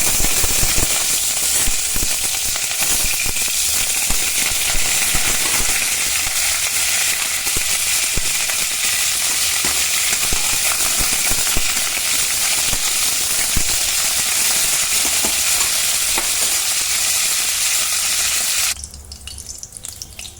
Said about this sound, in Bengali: এখন ফুলকপিগুলোকে একটু ভেজে উঠিয়ে নেব